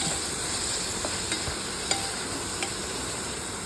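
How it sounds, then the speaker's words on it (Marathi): Finely chopped garlic and yellow bell pepper sizzle in ghee in a pan, a continuous frying hiss with a few light scrapes and taps as it is stirred, close and steady with no talking. "लसूण भरपूर टाकायचा, बारीक चिरायचा आणि चांगलं तुपामध्ये परतून घ्यायचं."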